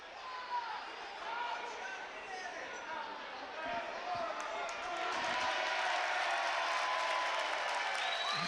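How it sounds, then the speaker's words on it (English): A basketball crowd gives a round of ironic applause during a boys' high school game, broad clapping that swells and grows louder toward the end, mixed with crowd noise and a commentator talking over it. "And a healthy, ironic round of applause from the Davison side of the room"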